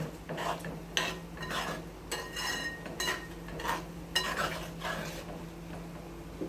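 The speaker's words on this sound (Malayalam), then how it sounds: "മസാലയൊക്കെ ഒന്ന് മൂത്ത് വരുന്നത് വരെ ഒന്ന് ഇളക്കി കൊടുക്കാം" Spoon stirring fish pickle masala in a pan, rhythmic scraping and clinking strokes over a low frying sizzle, close and steady with no voices.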